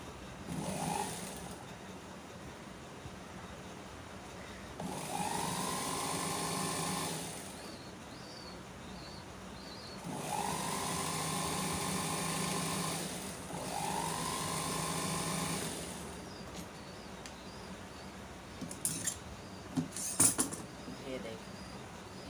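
Domestic sewing machine running in reverse to lock stitches on a full sleeve, heard as two separate bursts of steady motor whirring, each about two and a half seconds long, with quieter room sound between them and a few faint clicks near the end.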